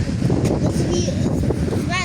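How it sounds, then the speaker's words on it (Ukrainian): Strong wind buffets the microphone with a loud, steady roar. A person talks over it. "У нас такий вітер, що голову зносить."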